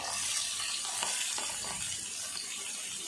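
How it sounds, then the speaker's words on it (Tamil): Mustard seeds splutter and sizzle in hot oil in a home kitchen while a fish dish is being cooked, a dense continuous crackling hiss with scattered pops, steady and close throughout. "கடுகு நல்லா பொரியுது"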